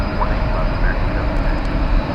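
An American Airlines Airbus A321 jet airliner, flight 2993 to Salt Lake City, at DFW Airport. A steady, loud roar of jet engines with a deep rumble continues through the whole stretch.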